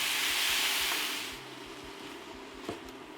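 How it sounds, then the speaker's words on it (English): Onions and peppers drop into a pan of hot caramelized sugar for pili pili hot sauce. A loud hiss and sizzle bursts out at once, then fades to a quieter steady frying with a single clunk near the end. "I want to quickly add the vegetables, the onions, the peppers, everything."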